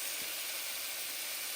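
Onions and garlic sauté in a pan for lasagna soup, giving a soft, even hiss of frying that holds steady and faint throughout, with no voices.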